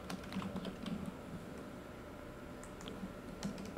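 Soft keyboard typing at a computer, light scattered keystrokes under a steady broadband background hiss, faint and continuous with no speech.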